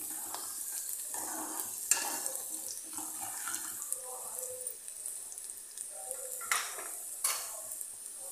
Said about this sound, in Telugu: మెంతులు కూడా 1 మినిట్ ఆయిల్లో ఫ్రై అవ్వాలి